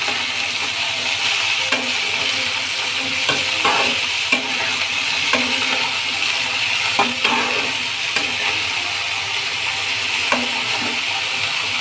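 Bitter gourd frying in a pan for a simple kakarakaya fry, with a steady sizzle throughout and repeated scraping clinks of a spatula stirring the slices, close and continuous with no talking.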